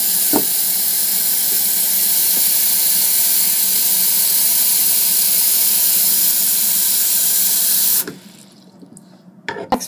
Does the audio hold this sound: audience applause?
no